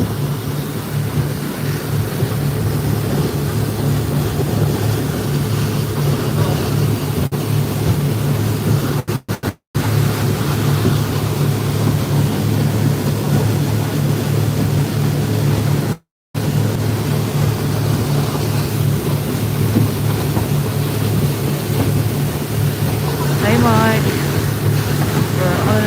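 Speedboat cruising among islands near Komodo, a constant loud engine drone with rushing water and heavy wind buffeting the microphone, continuing without a break apart from two brief dropouts.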